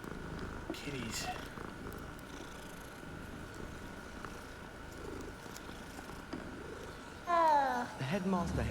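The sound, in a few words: cat purring in Hogwarts Legacy video game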